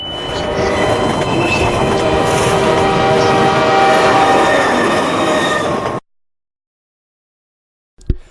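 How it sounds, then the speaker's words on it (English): A train in the Half-Life 2 video game rushes past with a loud, sustained rumble and squealing wheels, then cuts to abrupt silence before a brief sharp crash. "Unfortunately, driving head-on into a train is not one of those things."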